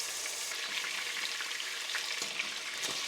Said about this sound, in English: Sauté the beef until the meat is browned and crusty on all sides.